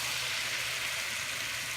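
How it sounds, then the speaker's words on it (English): Butter and heavy cream bubble gently in a pan, a soft steady hiss and crackle of simmering with no talk over it. "Now we let that simmer for a little bit"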